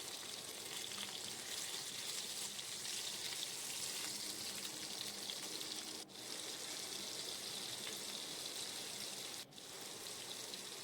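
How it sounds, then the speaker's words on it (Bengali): Eggs and potatoes fry together in a pan, giving a continuous dense, even sizzling hiss at low volume that briefly dips twice, with no speech. "আমি ডিমের সাথে আলুগুলোও ভেজে নিচ্ছি"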